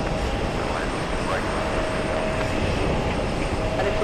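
Qatar Airways Boeing 777 racing down the runway on takeoff at JFK: a steady, distant jet-engine roar with a faint high whine, heard under radio chatter or a talking voice.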